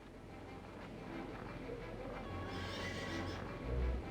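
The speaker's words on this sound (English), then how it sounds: "And a horse with wings came galloping, neighing wildly, just as in the dream." A winged horse gallops and neighs wildly, with shrill whinnies rising over a steady rumble of hoofbeats and a heavy thud near the end, close and fairly loud.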